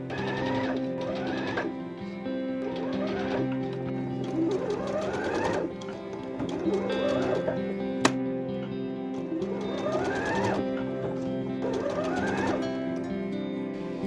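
A sewing machine stitches a ruffle onto a collar with a steady, close mechanical whirr that rises and falls in repeating runs, and one sharp click lands partway through.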